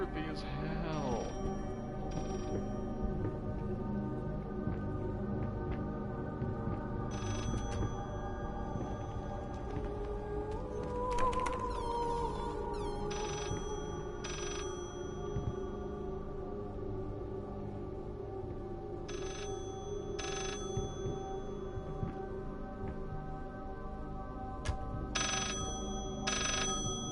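A telephone rings in a Halloween horror video game, repeated tonal ring bursts recurring every few seconds over an eerie droning game soundscape, with a brief swooping effect midway.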